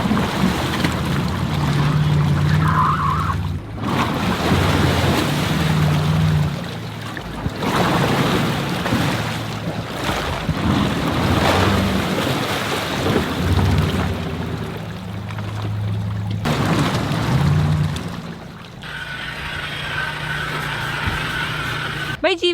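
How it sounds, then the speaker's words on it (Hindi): Water sloshes and waves wash steadily around a Mercedes G-Wagon SUV sinking rear-first into water, with wind buffeting the microphone and people talking over the scene throughout. "भाई जी वैगन तो डूब रही है पूरी पानी में पीछे से"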